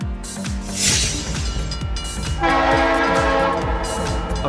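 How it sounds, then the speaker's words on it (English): A freight train rolls past with regular rhythmic clacks of wheels over rail joints while a long horn blares loudly over the rumble. "A freight train is a train used to carry goods as opposed to passengers."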